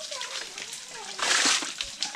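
Water splashes and sloshes at a mountain spring in El Salvador, rising to a louder gush partway through, with voices talking nearby.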